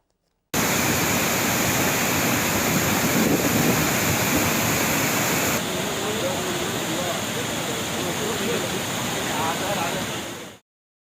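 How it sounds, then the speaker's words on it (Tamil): Flash-flood torrent pouring over the Courtallam waterfalls after heavy rain: a loud, steady, unbroken roar of rushing water that fills the whole stretch, close and alone. "குற்றால அருவிகளில் காட்டாற்று வெள்ளம் பாய்கிறது"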